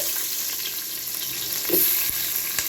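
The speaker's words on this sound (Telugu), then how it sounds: "ఉల్లిపాయలు కలర్ మారే వరకు ఫ్రై చేసుకుందాం" Onion sizzling in hot oil, added after cloves and bay leaf for a goat head curry, a steady broad hiss with a few faint spatters and light stirring clinks, no voices.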